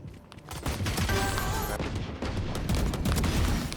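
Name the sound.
gunshots in a shooter video game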